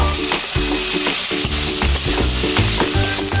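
Shrimp, already fried with salt and turmeric, sauté loudly with spice paste in a pan alongside figs. Dense, constant sizzling carries a steady rhythm of spatula strokes scraping the pan.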